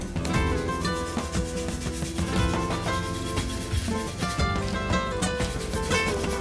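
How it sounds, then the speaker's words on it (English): A lime's skin is scraped with a small kitchen zester, a close, loud, continuous rasping rub with short repeated strokes and no talking. "I'm going to even add a little zest of a lime. I have my little zester."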